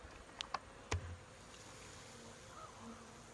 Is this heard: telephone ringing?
no